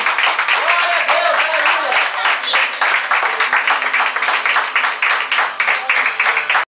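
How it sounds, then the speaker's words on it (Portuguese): A church congregation at an Assembly of God service claps vigorously in a steady, rhythmic pattern, with voices sounding beneath the sustained loud applause before it cuts off abruptly. "as palmas exaltam o nome do Senhor"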